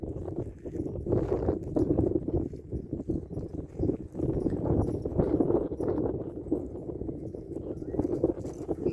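A pure criollo horse being worked in a round pen moves at a steady pace, its hooves clopping repeatedly and close by over wind noise, with no voices.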